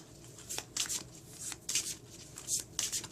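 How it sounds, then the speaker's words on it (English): Tarot cards being shuffled by hand in quick bursts of riffling and flicking, close and fairly soft, with short pauses between. "I'm just going to give it another quick shuffle, just like this."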